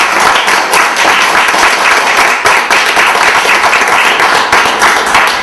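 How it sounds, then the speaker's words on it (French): Loud, continuous clapping from an audience at a press-conference certificate ceremony, dense and steady throughout without a break. "Je pense que ça vaut une bonne main d'applaudissements."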